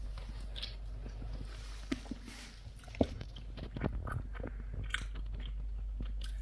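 Crispy banana fry bitten and chewed close up, a few sharp crunches standing out over steady low background noise with no talking.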